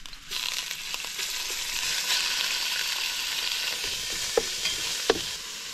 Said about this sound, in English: cook your beef first, but don't cook it all the way through